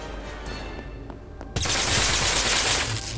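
Gunfire in the VR shooter game Boiling Steel, a few isolated shots at first, then a sudden loud, sustained burst of rapid automatic fire that continues to the end.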